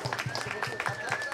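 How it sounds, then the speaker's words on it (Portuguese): Crowd clapping and cheering at an outdoor freestyle rap battle event in Rocinha, brief rhythmic claps with a faint whistle-like tone running through. "Quer uma salva de palmas pro primeiro round"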